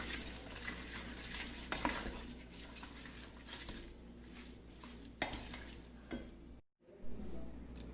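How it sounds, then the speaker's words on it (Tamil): Sugar is stirred in a pan as it melts, with repeated scraping and clinking of a utensil against the metal under a low frying hiss, close and fairly quiet, with no one speaking. "சுகரை கொஞ்சம் லேசாக கலக்கிக்கலாம். கொஞ்சம் மெல்ட் ஆகட்டும் சுகர்."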